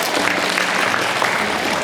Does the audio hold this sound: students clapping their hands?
yes